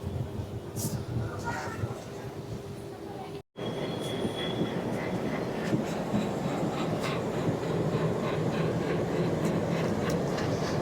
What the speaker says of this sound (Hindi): फाइनली जो है हमारी ट्रेन जो है वो निकल चुकी है दरभंगा रेलवे स्टेशन से।